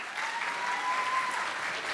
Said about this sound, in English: Let's give her a round of applause as well.